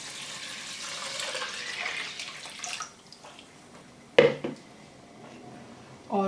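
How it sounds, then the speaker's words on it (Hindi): Water is added to a pot holding orange peel while making orange marmalade, a soft pouring wash for the first few seconds, then quieter kitchen handling with a sharp clink of a pot or utensil near the end. "उसके बाद इसमें आप ऐड करेंगे जो कि पानी है,"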